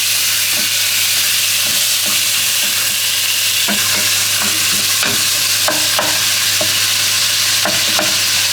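Beef mince fries loudly in a pan for spaghetti, a constant close sizzle broken by repeated scraping and tapping as a utensil breaks up the meat.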